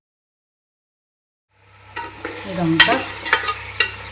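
Marinated chicken is stirred into hot oil with ginger-garlic paste and turmeric for Bengaluru donne biryani, giving soft scraping strokes over a quiet sizzle after a silent start. There is a brief word of speech.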